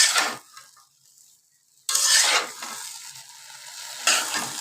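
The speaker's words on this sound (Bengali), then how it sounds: "এখন আমি তরকারিগুলো দিয়ে দিচ্ছি। তো একটু নেড়ে চেড়ে নিব এখন, যাতে মশলা সবগুলো মিক্সড হয়ে যায়।" Curry vegetables with onion and green chili stirred in a hot pan, bursts of frying sizzle and scraping in three loud spells separated by quieter gaps.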